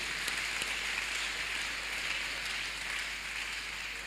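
A congregation at a church miracle service claps hands together in a dense, steady patter that sounds somewhat distant and even, with no voices standing out.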